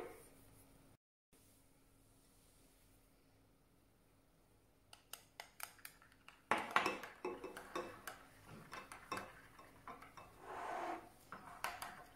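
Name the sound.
mixing a kebab marinade in a bowl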